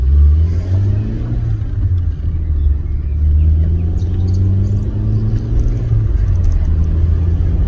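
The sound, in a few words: Rover 213S car accelerating from low revs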